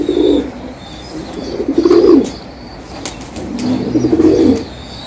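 Pigeons in a loft, including a young amber-coloured squab in flight, give bursts of wing flapping and soft cooing in two swells, with fainter bird sounds between them.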